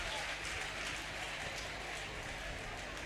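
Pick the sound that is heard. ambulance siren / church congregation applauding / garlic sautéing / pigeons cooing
church congregation applauding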